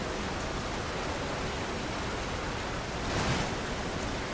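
Steady broadband rushing of a waterfall in Fortnite, a constant wash of falling water at even loudness with a slight swell near the end.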